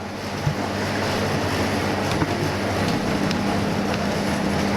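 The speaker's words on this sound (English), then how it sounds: "You can see the condenser fan is running and the gearbox is running with the belt." A hard ice cream and gelato machine runs with its condenser fan and belt-driven gearbox going, a steady, broad whirring hum that stays constant and fairly loud throughout, with no one talking.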